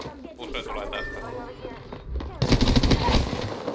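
Rapid automatic gunfire bursts loudly in a multiplayer shooter video game, a dense rattling barrage in the second half, layered under excited talking from players.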